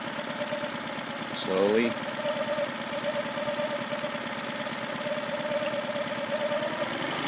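A troubled small engine idles with a steady mid-pitched hum, its throttle eased up so the tone rises slightly before settling, with a brief louder burst near the start; someone speaks briefly over the running motor.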